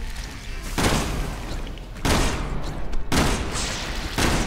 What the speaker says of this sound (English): Stop shooting randomly.